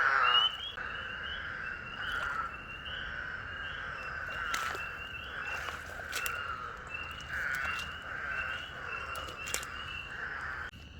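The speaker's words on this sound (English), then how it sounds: "So all the ones you hear calling are toads that have not yet found a mate." Spadefoot toads calling for mates, a chorus of overlapping nasal, buzzy calls repeating steadily at moderate distance, with occasional soft rustles or footsteps nearby.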